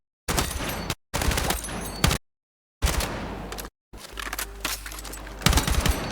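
Automatic weapon fire during weapon testing in Battlefield 6, loud bursts of rapid shots broken by short silent gaps, the last burst longest, with no talking.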